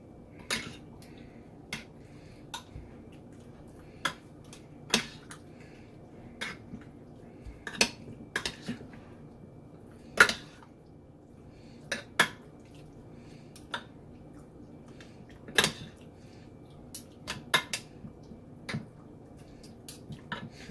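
Chicken marinade with black pepper, coriander powder and tandoori masala is mixed in a bowl, heard as quiet wet squelching broken by scattered sharp clinks of a spoon against the bowl over a faint background.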